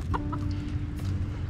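Chickens cluck softly and repeatedly over a low steady hum, a few short calls close by.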